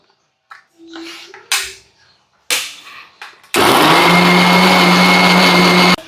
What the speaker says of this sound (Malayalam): നമുക്ക് ഇനി മിക്സിക്ക് ഇട്ട് കൊടുക്കാം. ഇനി ജസ്റ്റ് ഒന്ന് അടിച്ചെടുക്കാം.